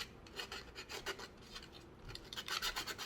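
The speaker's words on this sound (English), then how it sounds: "it's an 800 grain sandpaper. And so basically just sand down any rough edges" Quiet, close rasping strokes of 800 grit sandpaper rubbing rough edges on the cowling of a micro RC Sopwith Pup model plane, in short repeated back-and-forth passes with no talking.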